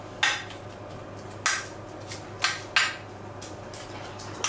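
A spoon scrapes and clinks against a pot while a fish mixture for a gratinated fish dish is stirred, giving about five sharp, spaced metallic knocks over a quiet background.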